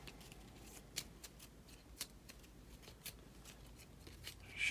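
A deck of cards is shuffled by hand during a solo tabletop game of Lord of the Rings: Journeys in Middle-earth, giving a run of soft riffling flicks and several sharper snaps that close in a louder burst, with no talking.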